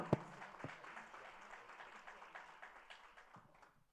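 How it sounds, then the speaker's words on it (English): Scattered clapping from an audience at a school board meeting honoring students, opening with a sharp clap and thinning out gradually as it fades. "Another round of applause."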